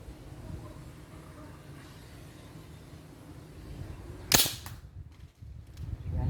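A single sharp crack from a butane-powered gun firing a 6mm steel ball cuts through a quiet outdoor background, followed by low rumbling ambience.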